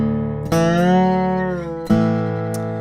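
Lap steel guitar in open D tuning plays the opening phrase of a song, with two sliding plucked notes that ring out and sustain over a steady drone, close and clear with no talking.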